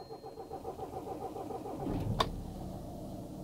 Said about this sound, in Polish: samochód odpala, ale ciężej